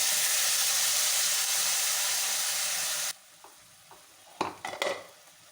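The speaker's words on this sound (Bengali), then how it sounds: "আমি এই তেলেতেই দুটো তেজপাতা দিয়ে দিলাম আর যেটা পেস্ট করে রেখেছিলাম এটা আবার দিয়ে দিলাম" Bay leaves and a spice paste hit hot oil in a pan for a prawn curry: a loud, even sizzle for about three seconds, then a quiet pause broken by a few clinks of a spoon against the pan.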